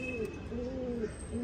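A pigeon cooing at its nest close by, soft low repeated coos rolling in a smooth rhythm over faint background noise.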